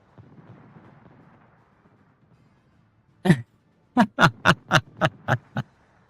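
A torpedo strikes home in World of Warships: a single heavy blast lands after a near-silent pause, then a quick rhythmic chain of about seven booming impacts follows, loud and close, with faint background murmur before.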